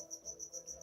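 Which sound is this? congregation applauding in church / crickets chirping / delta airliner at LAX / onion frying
crickets chirping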